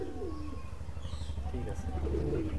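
Madrasi highflyer pigeons coo softly in a loft, low repeated burbling calls rising and falling near at hand over a steady low hum, with a voice or two murmuring in the background.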